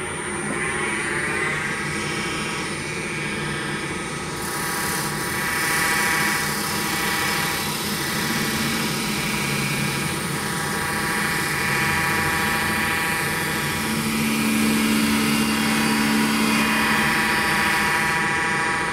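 A wood lathe holding a Jacob's chuck, used to turn a large hollow globe Christmas ornament, runs as a loud, steady whirring drone that shifts slightly as the machine speeds up.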